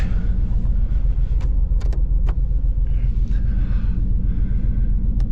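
A 1987 Chevrolet G20 Winnebago camper van's rear ventilation fan gives a steady low whirring hum throughout, with a few sharp clicks and faint rattles over it, close by and fairly loud.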